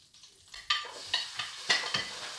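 Scallions stir-fry in a spoonful of oil in a pan for mapo tofu, with a quiet sizzle and a series of rhythmic spatula strokes scraping and tossing at close range, with no talking.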